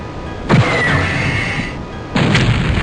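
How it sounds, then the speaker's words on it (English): Explosions in the video game Terror From The Deep: two loud, blasting booms with rumbling tails, the first sustained for over a second, the second starting near the end. "And Janice succeeds with a satisfying level of explosions."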